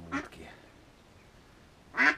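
Tambov decoy ducks give two separate quacks, one at the start and one near the end, with quiet in between.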